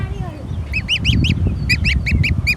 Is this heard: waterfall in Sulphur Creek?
no